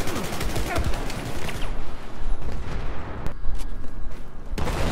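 Short bursts of rifle fire from an M416 or FAMAS in Battlefield 4, shot in quick taps over dense battlefield noise, with several sharp cracks close together.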